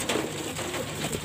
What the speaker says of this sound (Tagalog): Lumipad pa yung isang young bird natin o nakawala